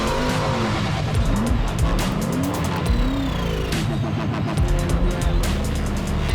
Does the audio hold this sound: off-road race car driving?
yes